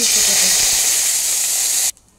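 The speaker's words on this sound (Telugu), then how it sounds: "ఆవాలు అయితే కొంచెం అవి చిట్టపట్టలాడేస్తే కరివేపాకు వేసుకుంటే అయిపోయా" Mustard seeds crackle and splutter in hot oil with a dense, loud hiss for about two seconds, then it cuts off abruptly.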